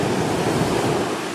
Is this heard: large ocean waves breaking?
yes